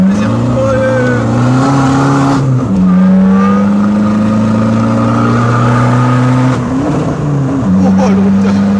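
A car engine screams at high revs against the rev limiter, holding a loud steady drone that drops and bounces back several times as the limiter cuts in, close and continuous.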